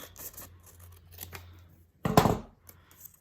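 Scissors snip through folded paper during a fortune teller craft, with faint handling sounds followed by one loud, close cutting stroke.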